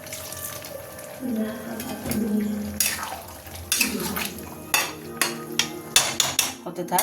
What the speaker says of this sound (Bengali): আর একটু জল দিই।